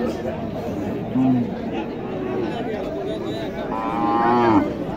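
A cow moos twice, low and drawn out, amid the steady chatter and bustle of a crowded cattle market in Naogaon, Bangladesh, with people talking nearby.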